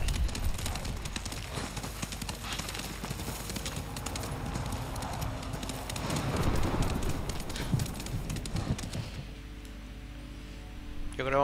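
Horse hooves in Ghost of Tsushima clop along continuously at a moving gait, mixed with game ambience and music, with the hoofbeats thinning out near the end.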